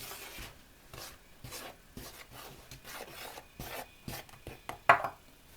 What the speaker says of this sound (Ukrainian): В муку висипаю сіль ретельно перемішую